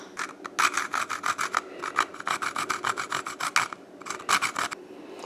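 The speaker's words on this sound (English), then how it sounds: "We just took a steak knife and sawed those off." A steak knife saws back and forth through small plastic mounting tabs on a suction cup dash camera mount, a close, steady rasping in quick repeated strokes with a brief pause near the end.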